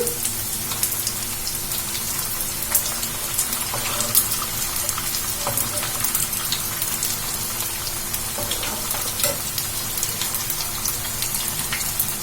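Potato bondas fry in hot oil over a medium flame, a dense, continuous sizzle and crackle like steady rain, close and alone without talk.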